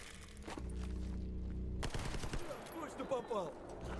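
Automatic gunfire with armor-piercing rounds rattles out in S.T.A.L.K.E.R. GAMMA, a sharp report followed by a dense burst of rapid shots and clattering echoes, loud and close.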